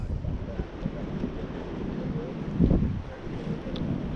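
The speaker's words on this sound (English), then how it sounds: "A lot of waves, a lot of wind." Rough sea at a fishing spot at sunset, with strong wind buffeting the microphone and waves rolling and washing continuously, a louder surge swelling midway.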